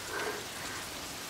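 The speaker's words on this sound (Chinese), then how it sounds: "你看今天这大暴雨下得太突然" A sudden heavy rainstorm pours down as a quiet, steady hiss of rain striking surfaces, brief and unbroken, with no voices present.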